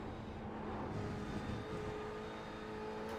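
Racing game audio at the Spa circuit: a car engine drones steadily at low volume with a faint whine, tyre hiss blended underneath, no voices.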